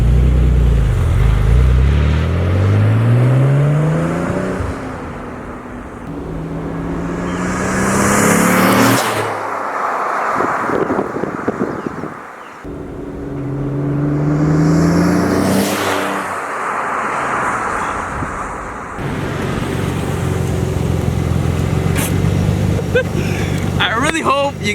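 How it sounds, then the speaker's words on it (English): A twin turbo Nissan 300ZX makes two loud flybys, its engine revving and rising in pitch before each pass ends in a sharp blow-off valve hiss, with people talking throughout. "I really hope you guys can hear just how good that blow-off valve sounds"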